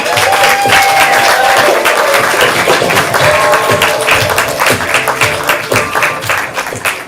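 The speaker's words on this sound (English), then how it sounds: "And clap it up for them." Loud, sustained applause from a crowd, dense clapping throughout with a few cheers mixed in, tapering slightly at the end.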